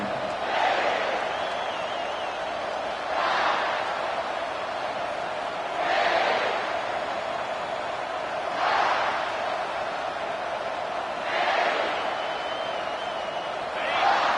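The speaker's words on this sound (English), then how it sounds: "This crowd bringing the energy and noise early." Steady roar of a large stadium crowd in an NCAA college football video game, with surges of cheering every few seconds, continuous and fairly distant, no clear voices up front.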